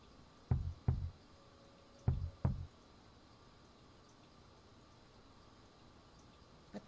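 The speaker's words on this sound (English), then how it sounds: "I heard knocking. I am hearing knocking." Knocking on a door in the detective video game Unheard: Faceless Crimes, two pairs of dull, hollow thuds close together, followed by a quiet room tone.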